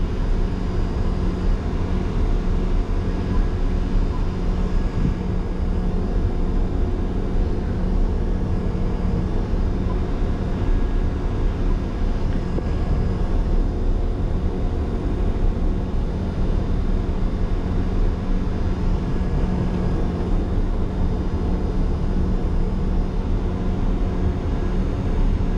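A motor grader with an angled moldboard spreads gravel along a township road, its diesel engine a steady, loud, unbroken rumble from inside the cab, with gravel scraping blended into the drone.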